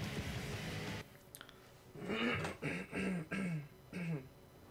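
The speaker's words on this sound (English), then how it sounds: "Had to clear my throat there." A man clears his throat several times in a row, four or five rough, separate rasps after a brief sharp sound, close and fairly loud with no talk over them.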